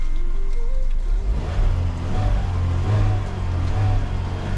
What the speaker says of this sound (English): I'm gonna rev it a little bit.